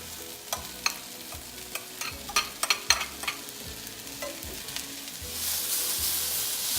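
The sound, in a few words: sautéing onions and mushrooms in a pan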